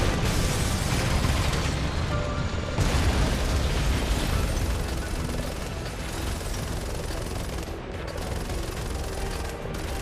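Helicopters in Resident Evil 6 are shot down and explode in a dense, loud, continuous roar of blasts and gunfire, with heavy rumbling throughout and no voices.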